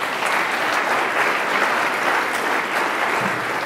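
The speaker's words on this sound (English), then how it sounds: "Round of applause for Liz" An audience at a forum applauds a speaker with dense, steady clapping throughout, fairly loud and close, with no talk over it.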